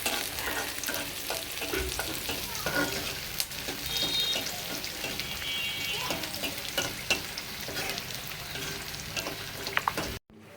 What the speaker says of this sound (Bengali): আর এখন বাগার দেওয়া হবে